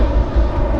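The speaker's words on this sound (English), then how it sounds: "Very conscious of the frequency of aeroplanes flying overhead to Edinburgh Airport this year." A steady low drone of an aeroplane passing overhead on approach to Edinburgh Airport, with no voices.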